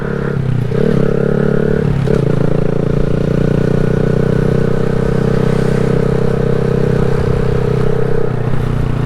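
A 2020 Honda Grom motorcycle on an early morning ride, its small engine droning loud and steady at close range with a brief dip in pitch near the start, with wind and road noise.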